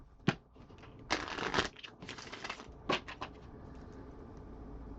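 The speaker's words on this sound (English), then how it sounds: "One more shuffle." Tarot cards shuffled by hand in a few quick riffling bursts, close but soft, separated by pauses over quiet room background.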